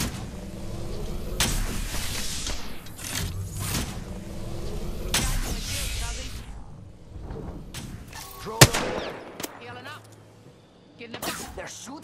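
Gunfire from the Apex Legends video game, a series of sharp broadband shots and bursts in the first half, followed by sparser thuds and impacts, with game sounds layered throughout.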